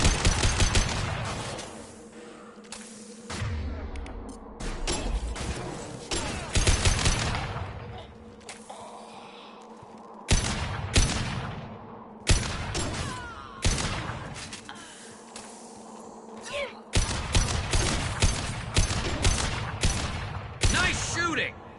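Sustained gunfire in Mass Effect Legendary Edition combat, with repeated bursts of rapid automatic shots that stop and start across the clip, loud and close, alongside other battle effects.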